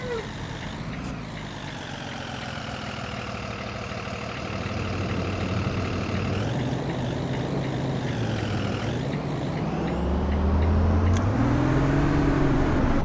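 A yellow bus in the Rigs of Rods driving simulator drives along with a loud, close engine drone whose pitch climbs and dips as it accelerates and shifts gears. A hiss and a rising whine come in near the end, with no talking.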